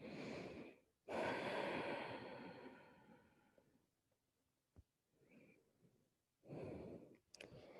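Slow, deep breathing in a quiet room during a yoga child's pose with the forehead on the mat: one long, close exhale that fades away, then a fresh inhale starting near the end, with no talking.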